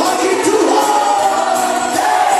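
A worship congregation at a praise and worship night shouts and cheers together, a dense, loud, sustained crowd roar with no single voice standing out.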